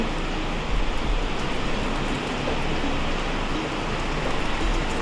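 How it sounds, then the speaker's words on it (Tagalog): Steady rainfall hisses evenly throughout, a constant wash of drops at moderate level with a few low rumbles underneath and no talking. "so yan ang ulan"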